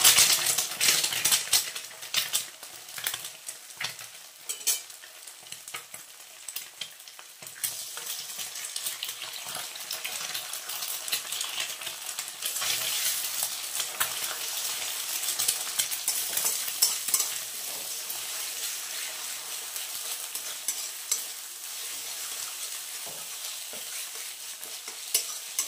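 Egg bhujia, a scrambled-egg fry for chowmein, sizzles steadily in a pan while a utensil scrapes and stirs it in frequent clicking strokes, close and continuous with no talking.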